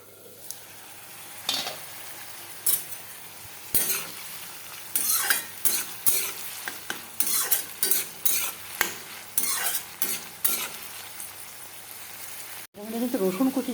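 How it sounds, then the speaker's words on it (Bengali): Pasta being lightly fried and stirred in a pan for cheesy pasta, with irregular scraping strokes of a spoon against the pan over a faint sizzle, close up, ending in a sharp knock. "এখন আমি এটাকে হালকা একটুখানি ভেজে নেব"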